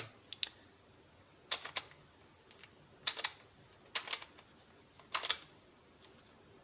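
Quick plastic clicks and clacks in irregular bursts as a twisty puzzle is turned, close and fairly quiet, with short pauses between.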